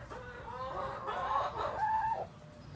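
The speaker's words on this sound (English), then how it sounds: "Chickens, you gotta love them." Chickens clucking close by in a backyard flock being fed mice, a continuous run of throaty clucks and squawks for a few seconds with no talk.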